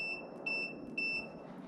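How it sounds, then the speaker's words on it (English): Cheap voltmeter on its continuity setting gives short, high electronic beeps, several in an uneven run, close by and fairly faint over a light hiss, during CB550 motorcycle wiring work. "And all that does is beep when these two are connected."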